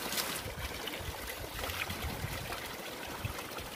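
Water from an outdoor shower at the foot of Mayon streams down in a steady, close splash and trickle, continuous and fairly loud, with no voices.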